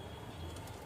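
A pigeon coos low and soft under a dense, hissy background in a brief, faint moment.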